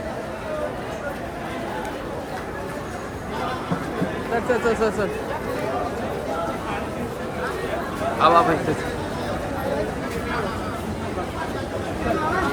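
Dense crowd chatter and hubbub at a busy Mumbai local train station as people push to board a packed fast train, a steady babble of many voices with shuffling movement and a few louder bursts partway through.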